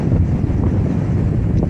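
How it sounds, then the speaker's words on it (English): Wind gusting on a Sierra mountain stretch of the Pacific Crest Trail, a loud continuous low rumble buffeting the microphone with no voices. "And of course there's wind."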